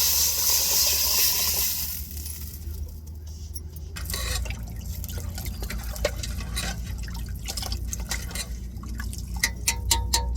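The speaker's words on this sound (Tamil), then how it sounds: "இப்போ ரசத்தை நம்ம தூக்கி ஊற்றிடுவோம் தாளிச்சாச்சு தாளிப்பில் வந்து ரசத்தை சேர்த்துருவோம்" Coconut rasam is poured into a pan of hot tempering, a close liquid splashing and sizzle with a steady low rumble, ending in a run of small clinks and drips.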